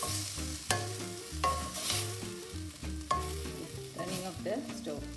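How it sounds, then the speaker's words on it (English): Coriander being stirred into a South Indian chutney frying in a pan on the stove, with a steady close sizzle and a few scraping stir strokes over a continuous frying hiss. "Giving a 1 quick stir before I turn off the stove"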